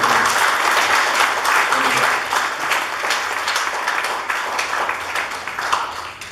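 Loud, sustained audience applause fills a crowded hall at a public event in New Delhi, dense clapping running continuously throughout and easing only slightly toward the end.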